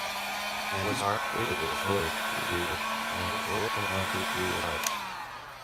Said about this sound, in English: You will need a heat gun or a hair dryer or something like that, because you will want to heat the foam up